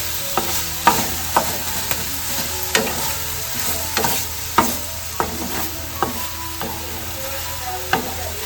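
A spatula stirs and scrapes mixer-ground masala paste around a hot pan, with a steady sizzle and rhythmic scraping knocks about every second, close and alone with no voices.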